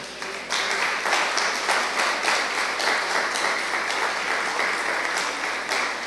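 Congregation applause during a Sunday church service, brisk steady clapping that starts abruptly and carries evenly for several seconds with slight pulsing, loud and unaccompanied by speech.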